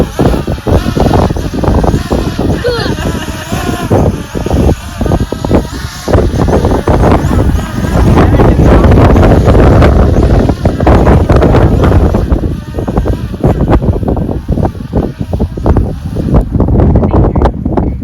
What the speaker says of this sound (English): No, it's too windy.